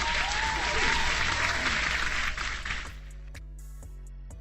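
A burst of crowd applause for giveaway winners on a crypto news livestream, a steady wash of clapping for about three seconds before it cuts off and gives way to quieter background sound.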